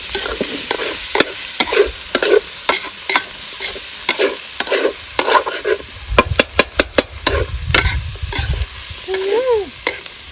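Frog meat is stir-fried in a pan, with metal utensils scraping and clanking in quick irregular strokes over a steady sizzle, close and fairly loud.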